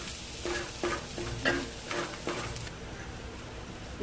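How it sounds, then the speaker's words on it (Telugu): Turmeric being stirred into a frying curry in a pan gives a soft sizzle under a series of rhythmic scraping stir strokes, close but fairly quiet, with the strokes fading into a low sizzle near the end. "ఇలా పసుపు వేసి కలుపుకొని"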